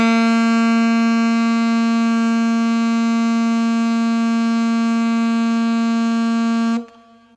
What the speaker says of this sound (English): So if I blow a G with a nice stable lip and an even breath,